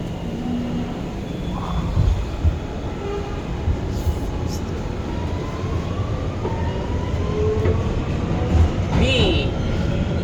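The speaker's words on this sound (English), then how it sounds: "This is a Brooklyn B train." A New York subway B train, an R211 car bound for Brighton Beach, runs along with a continuous heavy rumble and rattling, occasional squeals and faint tones, while people talk and announcements play over it.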